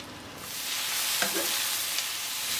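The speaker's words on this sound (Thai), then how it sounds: "ผมจะใส่น้ำมันทั่วเหลืองนิดเดียวครับ ผมจะใส่เห็ดหั่นครับ" Sliced mushrooms sizzle steadily in a little soybean oil in a pan while being stir-fried for Korean bibimbap, with a loud continuous frying hiss and a couple of faint utensil scrapes.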